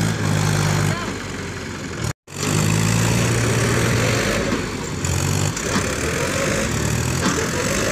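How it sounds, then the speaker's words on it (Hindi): Two tractors strain together to haul a stuck tractor out of a wet, waterlogged field, engines roaring loud and close with rising and falling revs and a brief cut in the middle. "दोनों ट्रैक्टर स्टार्ट हो चुके हैं, अभी जा रहे हैं।"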